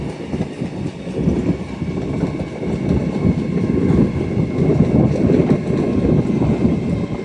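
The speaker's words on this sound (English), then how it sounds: "It's one crowded train going to Bradford Foster Square or Leeds or Wakefield or wherever they go." A crowded passenger train, unit 801-111 on the rear, departs Doncaster station on the East Coast Main Line toward Wakefield, Leeds and Bradford, a close, steady rumble of wheels with faint clickety-clack that builds slightly.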